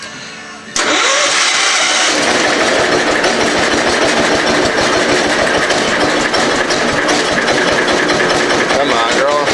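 A 1984 Allis Chalmers 912 garden tractor engine cranks briefly, then catches and settles into a loud, steady run. It idles with a rough, even chug for the remainder, and a voice talks over the engine.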